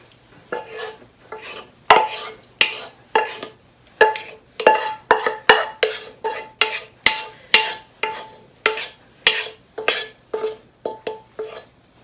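A spoon stirring cheese sauce into a tuna casserole, a steady run of about twenty scraping, clinking strokes against the dish, close and loud with short gaps between them.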